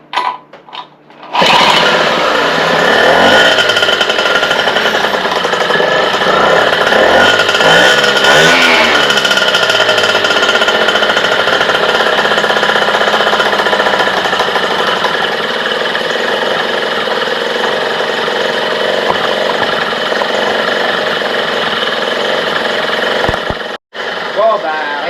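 A small engine on a 51 coughs to life after a brief choke and throttle, then runs loud and steady close by, settling into a continuous idle with a momentary drop near the end.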